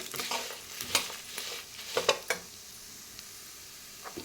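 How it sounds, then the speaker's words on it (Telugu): Spices and coconut for a coconut chili powder dry-roasting in a pan, with crackling and sharp spatula scrapes in the first half, then fading to a faint sizzle. Heard up close with no voices. "చక్కగా వేగాలి ఇవి మంచి కమ్మని వాసన వచ్చే వరకు వేపుకోవాలి"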